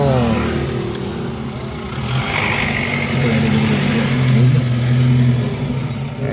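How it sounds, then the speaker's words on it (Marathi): A small tempo goods truck rolls up near a busy fish market, its engine rumbling and swelling as it arrives, with scattered voices in the background. "टेम्पो आला टेम्पो"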